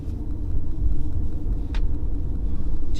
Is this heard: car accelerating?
yes